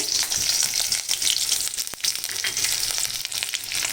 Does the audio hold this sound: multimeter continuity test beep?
no